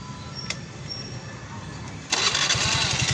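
Suzuki Skydrive FI scooter, just repaired with a replaced relay, cranking briefly and then firing up into a loud, rapid small-engine putter that continues running close to the microphone.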